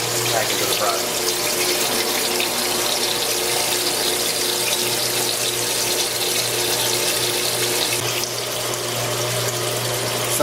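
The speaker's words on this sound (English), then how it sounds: "while filling up your fryer with the filtered oil" Filtered cooking oil pumps back into a fryer with a steady rushing, gurgling flow and a constant motor hum underneath, continuous and close throughout.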